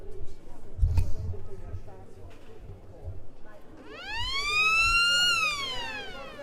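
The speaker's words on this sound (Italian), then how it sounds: "La sirena dice che i portieri possono rientrare" A rising and falling electronic siren sounds over the crowd at a water polo match in a pool hall, following scattered thuds and arena murmur, loud and sustained for about two seconds near the end.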